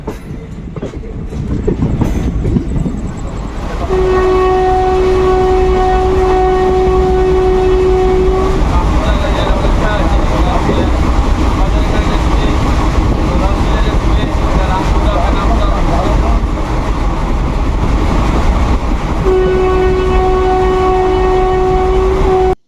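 Passenger train running along the tracks toward Puri, heard from inside a crowded general coach: a steady loud rumble with rail clatter throughout, and a long sustained horn sounding twice.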